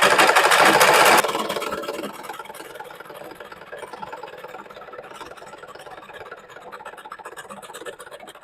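A sewing machine stitches stretched elastic onto fabric for a peplum top, starting with a loud burst of whirring for about a second, then settling into a quieter steady mechanical hum with light scratching; no talking.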